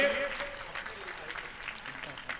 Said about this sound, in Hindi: एक बार उनके लिए आप लोग जोरदार तालियां बजा दीजिए, हाफिज अहमद आजमी साहब के लिए।